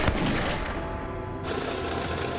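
A muzzle-loading musket fires in a dense, rumbling burst of gunfire that fills the whole clip, loud and close, with a brief lull in the highest tones midway before the crackling roar resumes.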